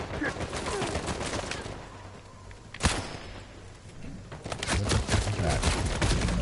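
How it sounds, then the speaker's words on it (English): M14 rifle fire in Uncharted, rapid bursts of shots with one sharp loud crack near the middle, dense and continuous, with a voice talking over parts of it. "I literally shot him right in the head"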